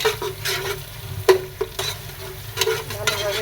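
A paste of ginger, garlic, nuts and onion fries in a pan, giving a steady sizzle with repeated scraping and clattering strokes of a spoon at close range, with no voices.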